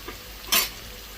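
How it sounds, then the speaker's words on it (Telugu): Bitter gourd pieces coated in salt, chilli, ginger-garlic paste and spices fry in a pan with a soft background sizzle and one brief, sharp scrape of stirring. "మంచి ఫ్రై అయ్యేలా చూద్దాం."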